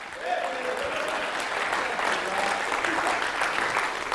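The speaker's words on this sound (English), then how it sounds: "Come on, Tyler, clap." A crowd at a church service claps in steady, sustained applause, dense and fairly close, with faint voices mixed beneath.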